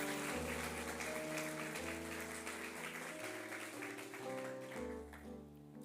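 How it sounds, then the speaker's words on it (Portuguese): Church congregation applause under loud sustained music, the clapping a dense patter throughout as organ-like chords shift beneath it. "Você pode aplaudir a Jesus então?"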